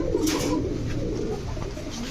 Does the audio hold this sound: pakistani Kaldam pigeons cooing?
yes